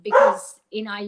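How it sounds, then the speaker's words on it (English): A pet dog barks loudly and close by in a short burst at the start, then a woman's steady speech continues over the quieter room. "Excuse my dog."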